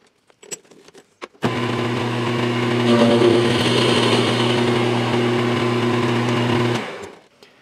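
A steady mechanical whir with a strong low hum starts abruptly after a few faint knocks, runs evenly for several seconds, then winds down, as a lathe cuts a guitar knob with a form tool at slow speed.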